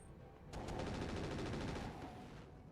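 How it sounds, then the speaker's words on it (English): An infantry suppression turret in the RogueTech mech game lets loose a fast, continuous burst of rapid automatic gunfire lasting about two seconds, loud and close, with no talking over it. "Infantry suppression turret firing on the Vulcan."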